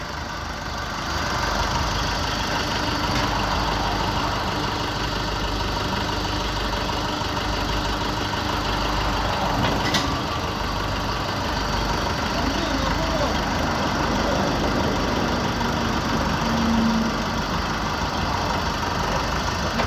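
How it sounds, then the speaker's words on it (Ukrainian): A Lovol 454 tractor fitted with a loader idles nearby in an equipment yard, its engine holding an even, continuous drone with a slight knocking texture throughout. "Ось такий тракторець з навантажувачем."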